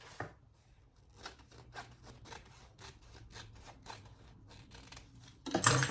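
Scissors trim excess fabric from sewn lining pieces of a zippered sling bag, a steady run of short, close snips that ends in a louder rustle of handled fabric.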